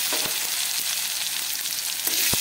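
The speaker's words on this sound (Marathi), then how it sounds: "तर यासाठी मी कांदा टाकून घेते अगोदर" Chopped onion sizzles in hot oil for poha, a dense, even crackle and hiss that stays close and loud throughout, with a few sharper pops.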